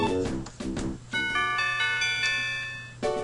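The Heal Bell move in the Pokemon Stadium 2 video game rings out as a bright chiming bell tone, sustained for a couple of seconds after brief game sounds, clear and close.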